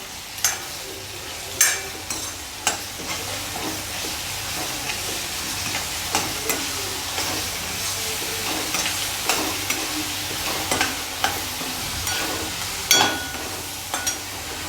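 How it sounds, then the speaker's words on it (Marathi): Ginger-garlic paste sizzles in hot oil for dal tadka, with a steady frying crackle and repeated sharp scrapes and taps of a spatula stirring it in the pan, close and continuous throughout. "त्यानंतर आपण टाकणार आहोत आलं लसणाची पेस्ट, आता आपण छान परतवून घेऊया"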